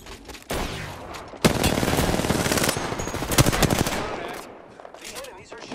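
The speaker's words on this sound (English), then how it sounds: "The enemies are shooting at me." Rapid automatic gunfire from the Apex Legends video game erupts in dense, loud bursts over several seconds, with overlapping shots and a short quieter tail at the end.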